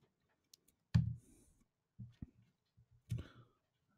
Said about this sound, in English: I'm going to click Save, and then I'm going to click Finish.